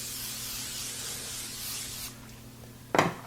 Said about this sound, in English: I'm just going to spray with some cooking spray